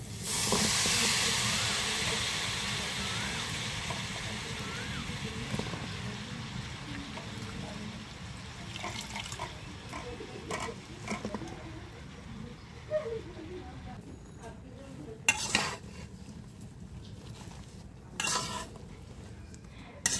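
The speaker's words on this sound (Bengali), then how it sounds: "আমি এখন শাকগুলো ভালো মতো কষিয়ে নেব।" Pumpkin greens are sautéed in a pan with spices. A loud hiss of steam bursts up at first and slowly fades, while intermittent stirring scrapes and clanks of a utensil against the pan continue throughout.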